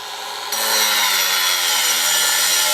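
An angle grinder bursts into a harsh, loud grinding whine after a quiet start, its disc cutting deep into steel steadily and close by.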